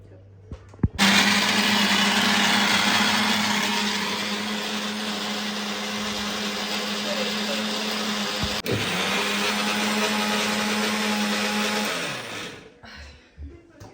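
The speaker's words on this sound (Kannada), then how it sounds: "ಪೇಸ್ಟ್, ತಿನ್ ಪೇಸ್ಟ್ ಥರ ರುಬ್ಕೋಬೇಕಾಗುತ್ತೆ" A mixer grinder runs loud and steady for about eleven seconds, grinding a spice mixture into a thin paste for a hesitted bele saaru lentil curry, whirring hard from start to finish before spinning down and stopping.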